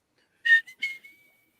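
Someone whistles the opening notes of the Kolchak TV show theme: a few short, clear whistled tones, the last one held briefly and fading, alone against silence.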